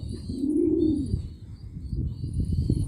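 A single low, rounded coo from a nearby dove or pigeon, followed by faint background chirps and rustling.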